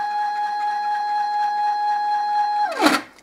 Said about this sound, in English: I'm just going to move the motor back and forwards